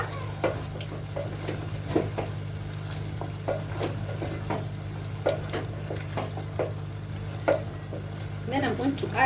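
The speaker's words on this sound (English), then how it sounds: "now I'm going to add my meat to this mixture, and then I'll stir." Beef frying in a matoke stew mixture, stirred with a utensil scraping the pot in irregular strokes over a steady soft sizzle, close and moderately quiet.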